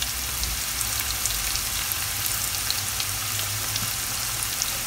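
Onions frying in a pan for shakshuka, a dense steady sizzle with fine crackling pops, close and continuous, no voices.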